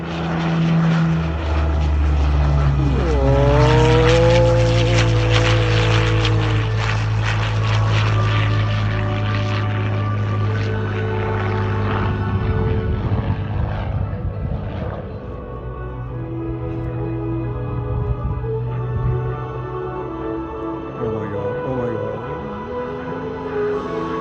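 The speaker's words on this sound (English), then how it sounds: "From the right, I present to you the Hawker Hurricane Mark 12." A Hawker Hurricane Mark 12 propeller fighter flies past at an air show, its piston engine a loud, steady drone that swells and shifts pitch as it passes, then fades slightly while staying prominent throughout.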